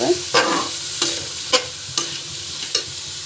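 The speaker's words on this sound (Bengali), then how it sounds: "ভালো করে মিক্স করে নেবো তরকারিগুলোকে।" Chopped bottle gourd curry being stirred and fried in a pan, a continuous sizzle punctuated by six sharp spatula scrapes at regular intervals, close up with no voices.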